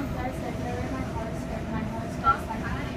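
Continuous low rumble and rattle from inside a moving Sydney Trains V set overtaking a Richmond service, with faint voices and a brief bump partway through.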